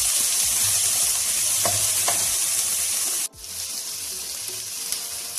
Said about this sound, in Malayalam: അതും കൂടെ ചേർത്ത് നന്നായി ഒന്ന് ഇളക്കി ഈ ഉള്ളി നമ്മൾ അടച്ച് വെച്ചൊന്ന് വഴറ്റി എടുക്കാൻ പറ്റും.